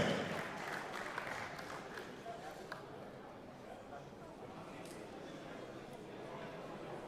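Audience applause at a charity auction, a loud burst of many hands at the start that settles into steady, slightly fainter clapping continuing throughout, with voices mixed in.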